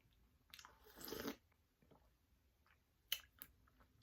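A crisp apple is bitten with a loud crunch, followed by quiet chewing and another sharp crunchy bite near the end, close up.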